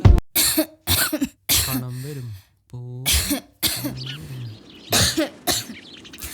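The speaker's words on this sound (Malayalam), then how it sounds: "അമ്മയുടെ ചുമയിനി മാറിയില്ല." An elderly woman coughs repeatedly in harsh, separate bursts, with strained, wheezy voicing and gasping breaths between, close by, from a lingering illness.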